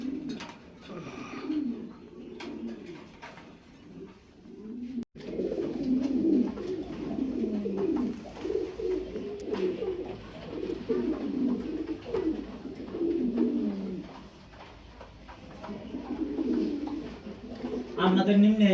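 Pigeons coo in soft repeated throaty phrases close by, several overlapping bouts through the stretch, with brief pauses between them.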